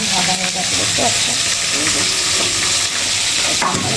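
Fish frying in a pan at home, a loud continuous sizzle and hiss of hot oil with faint stirring clinks, close and steady throughout.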